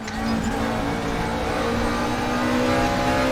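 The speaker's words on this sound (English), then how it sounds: "We're all driving the McLaren 650s GT3." A McLaren 650S GT3 race car engine drones steadily and loudly in RaceRoom at Suzuka, holding an even, sustained note with no clear gear changes over a few seconds.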